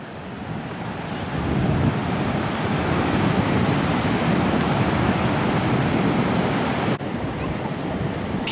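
Off-season surf at Fistral Beach, Cornwall, roars in a broad, continuous wash of breaking waves with wind buffeting the microphone, loud and close with no talking.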